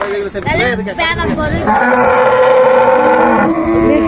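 Loud, close cattle moo in long drawn-out calls, overlapping one another, with some shouting voices mixed in at the start, at a cattle pasture in Shahzadpur.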